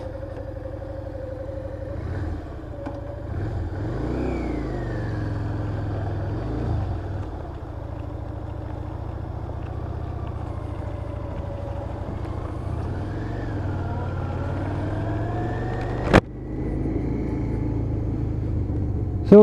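A Yamaha DragStar 650 V-twin cruiser rides through traffic on a cold, blustery day, its engine a steady low rumble that rises and falls with throttle changes, with one sharp burst late on.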